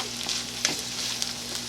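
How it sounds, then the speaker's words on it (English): Rice, vegetables, ham and bacon are stir-fried in a hot pan, making a continuous close sizzle broken by a couple of quick scraping stirs. "Stirring in the rice and the vegetables and the ham and the bacon and the deliciousness."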